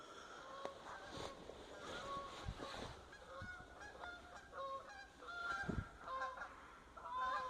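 Several birds honk repeatedly in a zombie video game, a goose-like chorus of scattered calls at moderate distance over a faint background.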